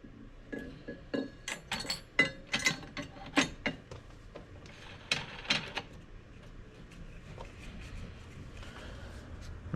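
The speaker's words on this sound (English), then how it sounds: "All right, cutting down some plugs here." Plug cutter trimming down filler plugs in a Motiv Jackal Onyx bowling ball, giving a run of close, sharp clicking and ratcheting scrapes in uneven bursts during the first half, then a quieter mechanical rasp.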